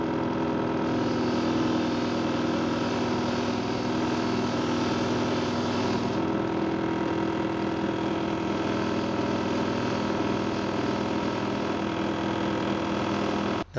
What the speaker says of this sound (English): I'm telling you now before I switch the buffer on because it's a bit noisy.